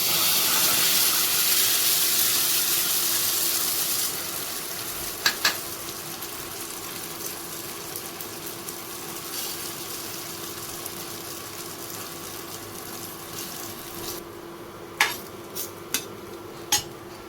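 Food cooks in ghee in a pan on the stove, a steady sizzle and hiss that eases after a few seconds, broken by utensil clinks and scraping against the pan near the end, no talk.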